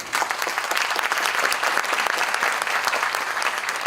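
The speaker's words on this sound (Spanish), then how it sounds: "agradecemos nuevamente con un fuerte aplauso a ambos expositores" An audience at an academic conference applauds two speakers, a dense, loud, even wash of many hands clapping that carries through the whole stretch without a break.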